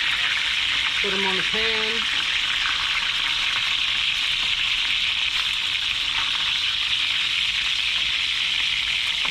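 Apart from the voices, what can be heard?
white perch fish frying in hot peanut oil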